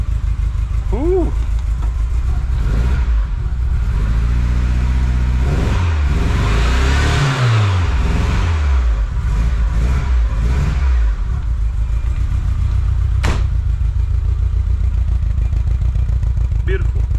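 Nissan Pulsar N13 engine running through a custom exhaust, loud and close, with a deep idle rising into a couple of revs and falling back, while people talk over it.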